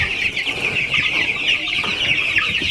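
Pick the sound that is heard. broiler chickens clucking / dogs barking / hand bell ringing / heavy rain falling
broiler chickens clucking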